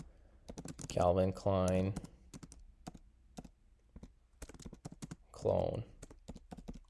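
Fast, irregular clicking of keys on a computer keyboard while a product listing is typed, heard close and steady under a person speaking intermittently.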